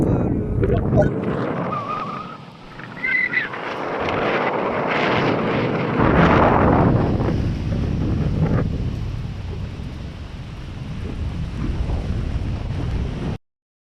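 Strong wind buffets the microphone in a park by a château with a steady low roar and gusts, broadband and loud throughout, with no other clear sounds standing out.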